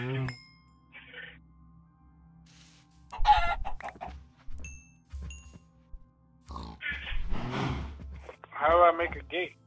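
Chickens cluck and squawk in a blocky Minecraft farm scene, intermittent bursts of fowl calls heard under and between a person's speech, with soft game background sounds.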